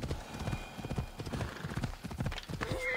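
A horse gallops in Assassin's Creed Odyssey, with rapid rhythmic hoofbeats and clip-clop thuds throughout, a short whinny near the end, and faint game ambience underneath.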